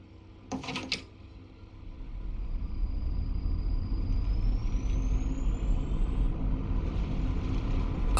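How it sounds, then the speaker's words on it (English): Traffic rumbles outside a bus in the driving game The Bus, set in Berlin: a couple of brief knocks early on, then a steady low engine and road drone swells and holds, with a faint whine gliding upward. "I should have adjusted the sound to make the traffic outside a bit louder"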